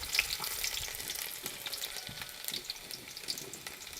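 Chopped garlic sizzles steadily in a hot pan, a continuous close crackling hiss with small pops and occasional stirring scrapes throughout, no voices.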